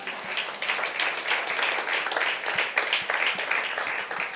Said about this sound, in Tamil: ஒரு கைத்தட்டு கொடுக்கலாமா?